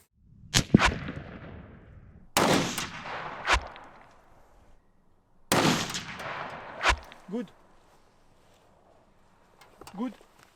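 Several sharp rifle shots ring out while hunting Corsican mouflon in France, spaced a few seconds apart, each with a quick echoing decay, while a voice speaks briefly between them.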